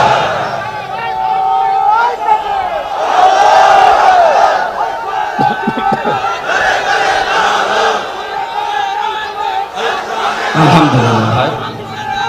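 A large crowd at an Islamic waz sermon roaring the takbir "Allahu Akbar" together, loud sustained chanting voices swelling in waves over about twelve seconds.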